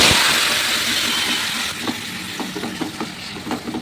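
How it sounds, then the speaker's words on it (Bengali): Panch phoron and dried chili frying in hot oil, a loud hissing sizzle that gradually eases, with small crackles and pops scattered through the second half. "একটু ফোড়নে দিলাম 5 ফোড়ন আর শুকনো লঙ্কা"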